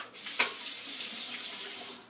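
Cold water runs steadily from a tap over an alum block during a shave, a close, continuous splashing rush that holds level throughout with no talk.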